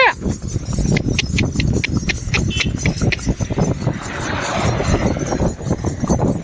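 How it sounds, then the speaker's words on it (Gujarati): Horse hooves clip-clop in a steady rhythm on a hard surface, close by, while someone talks over them. "હવે આપણે ઘોડા સવારી માં નીકળી ગયા છે"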